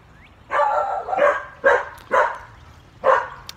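Several loud, close dog barks ring out one after another at irregular intervals, with a short yelp-like opening and no speech.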